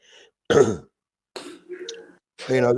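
Several separate bursts of throat clearing and coughing from a man with flu, close and fairly loud, with short silent pauses between them.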